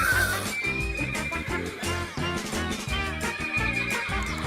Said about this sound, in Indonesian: suara ini dikenalnya dengan nama meringkik, atau dalam bahasa Inggrisnya,